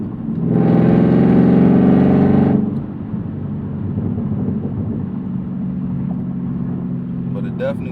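A Chevrolet Camaro revs hard for about two seconds with a loud engine roar, then settles into a low idle rumble, with faint light pops from the exhaust near the end.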